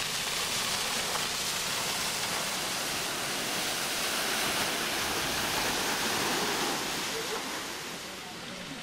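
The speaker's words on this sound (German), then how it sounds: "Vor dem Spiegelsaal des Schlosses wurde ein großes Wasserbecken mit einer etwa 25 Meter hohen Fontäne angelegt." A large fountain, about 25 meters high, splashes into a big pool in front of the palace's Hall of Mirrors in the garden, giving a steady, loud, broadband rush of falling water that eases slightly near the end.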